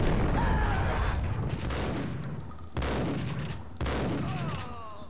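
Shotgun blasts in Max Payne: a loud, booming shot opens the stretch, and two more powerful blasts follow about a second apart, each with a long roaring decay.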